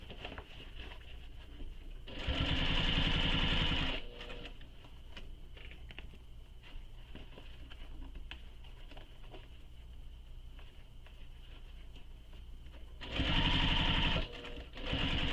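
Two short bursts of a sewing machine stitching a shoulder bag, close and loud, with quiet handling noise and small clicks in the pause between them.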